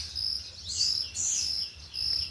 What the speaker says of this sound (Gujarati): ચકલા પણ મસ્ત મજાના બોલી રહ્યા છે